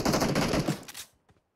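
A fast burst of gunfire from PUBG Mobile, loud and close, rattles for about a second and then cuts off, leaving a couple of faint distant shots.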